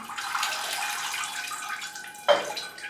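Water poured from a watering can over a potted plant on a shelf, a steady close trickle and splash lasting throughout, with a brief louder gush near the end.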